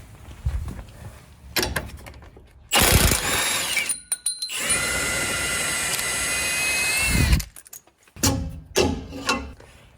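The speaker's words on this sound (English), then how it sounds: "we're going to grab our 21mm socket and we're going to remove the bolt securing the rear track bar to the axle" A 21mm socket working loose the rear track bar bolt on a Jeep Wrangler JL axle, heard as bursts of loud ratcheting and whirring tool noise broken by clanks, metallic rattles and short pauses, no talk.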